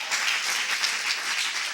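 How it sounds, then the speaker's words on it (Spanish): A church congregation gives a brief, even round of clapping during a sermon, moderately distant and without any voices over it. "dele el aplauso al Señor"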